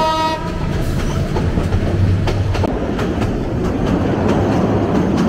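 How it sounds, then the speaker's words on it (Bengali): A train stands at a junction station in Bangladesh, waiting to depart on the Dhaka to Cox's Bazar run; a steady low rumble of idling railcars fills the scene, with a horn-like tonal note at the start and faint clanks throughout. "গাইস ফাইনালি ট্রেনে চড়ে বসছি, এখন ট্রেন ছাড়ার অপেক্ষায় আছি।"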